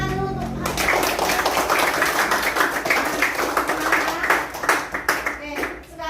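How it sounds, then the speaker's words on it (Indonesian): Schoolchildren in a classroom clap together in a steady, dense round of applause lasting several seconds, with a teacher's voice briefly heard at the start and children's voices mixed in. "Tepuk tangan dulu untuk"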